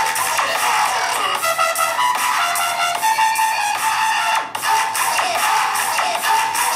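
Loud, continuous music-like playback from the single small, tinny speaker of a Realme C61 phone, bright and compressed, with one brief dip midway.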